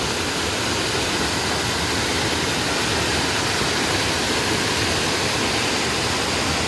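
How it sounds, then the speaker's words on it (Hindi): Fast-flowing mountain stream, Ngon Sam (Flying Phoenix) Stream, rushing loudly and continuously as broadband water noise, close by with no voices. "ये नीचे पानी का बहाव, एक पानी एक तरफ को जा रहा है और ये कितनी स्पीड से आ रहा है"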